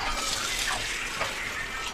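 Water pours steadily into a pot, a close, continuous splashing rush with a slight shift in tone as it fills.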